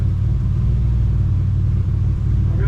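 The engine of a 2004 Ford Explorer runs at a steady idle, a loud, close, continuous low rumble that holds evenly throughout.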